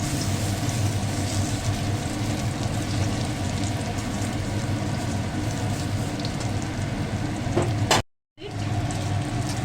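Lentil fritters seasoned with ginger, salt and green chili fry in hot oil, giving a dense, continuous close sizzle that cuts out briefly near the end.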